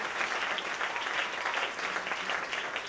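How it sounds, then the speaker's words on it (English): Steady applause from a festival audience at a live stage show, a dense continuous patter of clapping at moderate distance with no speech over it. "Round of applause for Amy Jensen, ladies and gentlemen."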